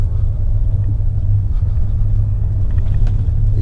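Inside a 2016 Volkswagen Tiguan with the 2.0 TSI 180 hp engine, a steady low rumble of engine and road noise fills the cabin while driving, loud and continuous with no talking.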